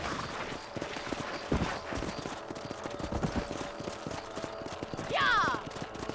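Horse hooves gallop in a steady clip-clop rhythm through the Red Dead Redemption game soundscape, mid-distance and moderately loud, with background game audio and a short whinny-like sweep near the end.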